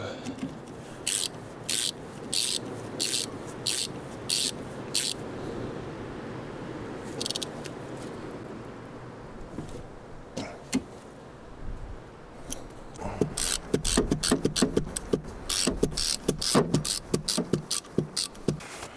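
Ratcheting clicks from tightening steering box mounting screws with copper washers on a Nissan Patrol, in quick bursts of sharp repeated clicks, a pause, then a denser run of clicks near the end.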